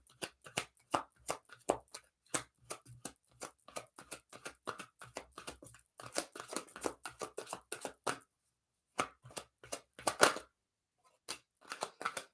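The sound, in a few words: tarot cards being shuffled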